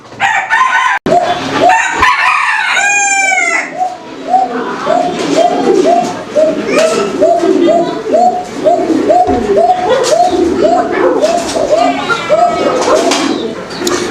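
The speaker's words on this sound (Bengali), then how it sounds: "আপনারা দেখছেন কবুতরগুলো কিন্তু আলহামদুলিল্লাহ অনেক চমৎকারভাবে ডাক দেখাই দিলাম আমি আপনাদেরকে" Fancy pigeons kept for sale coo loudly and repeatedly up close in a steady pulsing rhythm, with a rooster crowing briefly at the start and people talking underneath.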